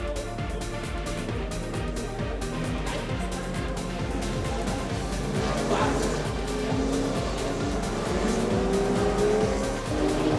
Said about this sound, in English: So, we just hear the cars passing by.